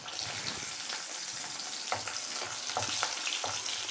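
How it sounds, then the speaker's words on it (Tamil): Small onions and garlic sauté in a hot pan for a green tomato chutney, giving a steady close sizzle with soft stirring scrapes and taps throughout. "இப்போ இதில் சின்ன வெங்காயத்தை நம்ம எடுத்து வச்சுருக்க சின்ன வெங்காயத்தை போட்டு"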